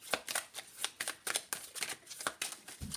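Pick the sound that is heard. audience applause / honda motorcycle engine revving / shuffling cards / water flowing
shuffling cards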